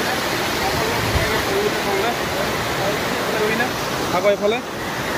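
Waves and rushing water at Parshuram Kund, a broad, loud, continuous roar of churning river water, with a person talking briefly over it near the end.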